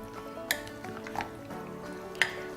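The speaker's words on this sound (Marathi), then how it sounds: "आणि हे छान मिक्स करून घ्यायचे" A spoon stirs chopped chibud melon into curd for Konkani dahi chibud, a quick sweet dish, giving a few sharp, quiet clinks against the bowl over soft background noise, with no talking.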